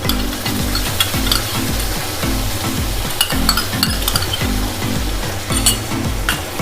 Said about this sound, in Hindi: अब इसको भूजेंगे, हम मसाला को फ्राई करेंगे।